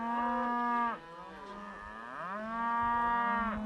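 A cow being herded and moved with cattle gives long, drawn-out moos. Two sustained calls dip in the middle and swell again, fairly close, with no talk over them.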